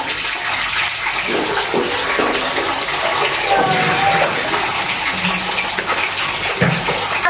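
Potato pieces dropped into hot cooking oil for balado give a loud, steady, dense sizzle throughout, with faint clinks and a few muffled kitchen sounds underneath.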